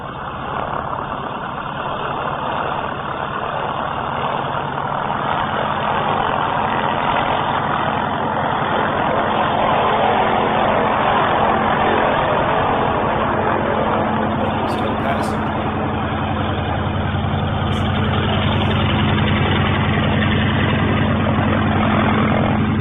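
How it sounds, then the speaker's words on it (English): Aircraft taxiing on an airfield, a steady low engine drone and rumble that holds at a constant level throughout, fairly close, with a few faint clicks near the end. "Taxiing the whole thing. Staying on the field."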